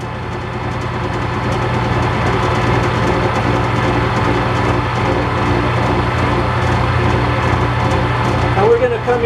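Metal lathe running in gear while cutting a workpiece, a steady low mechanical hum and drone that holds at a constant loud level throughout.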